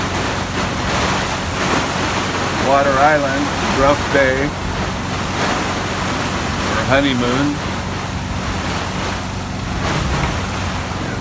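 Hurricane wind roars around a boat on a mooring near Buck Island, with constant heavy gusting and crashing waves, someone talking over the storm noise.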